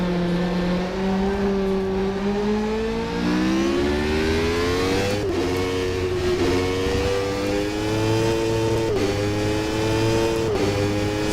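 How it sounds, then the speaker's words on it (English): Race car engine in the rFactor 2 sim racing game, heard from inside the cockpit, drones steadily and climbs in pitch through repeated gear changes, loud and continuous with no talk. "This is how it sounds inside the car."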